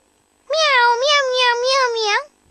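A cartoon kitten lets out a single drawn-out, wavering meow over a phone, lasting nearly two seconds against a quiet background.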